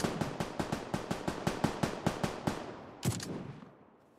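Automatic rifle fire in the video game PUBG Lite, a steady burst of about fifteen sharp shots in even rapid rhythm, then one final louder shot with a fading echo.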